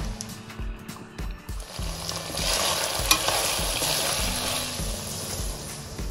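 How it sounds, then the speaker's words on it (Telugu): Fresh mint leaves fry in a pan with ginger-garlic paste for a mutton curry, a dense close sizzle with repeated spatula stirring and scraping, quieter at first then steady and loud. "పుదీనా వేసుకున్నాక కొద్దిగా ఫ్రై అయిపోయింది"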